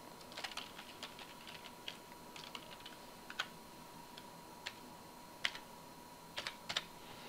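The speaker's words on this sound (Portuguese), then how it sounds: "a digitação pode ser feita diretamente na célula" Quiet, close typing on a computer keyboard while entering data into an Excel spreadsheet, with irregular short bursts of soft key clicks and brief pauses over a faint steady background hum.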